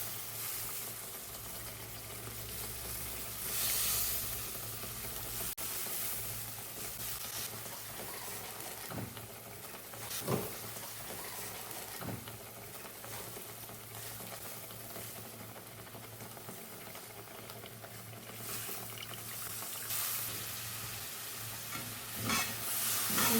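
Ginger curry, Kerala-style shunti saaru, sizzles steadily in the pan while being stirred after tamarind juice goes in, a continuous close frying hiss with scraping stirs and occasional louder clatters.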